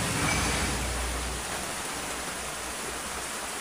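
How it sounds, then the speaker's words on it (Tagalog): Strong typhoon wind roars in steady broadband noise with heavy rain hissing throughout, loud at the start and easing slightly, with no voices. "malakas ang hangin"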